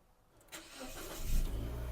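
A Mitsubishi Outlander with 95,000 km on it, running on gas, starts up: a short starter whir, then the engine catches and settles into a low, steady idle rumble, close by and without any talking.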